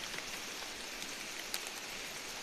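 Rain falls steadily on a forest during a bird hunt, a soft even hiss of drops on leaves with a few slightly louder taps, fairly quiet and with no voices.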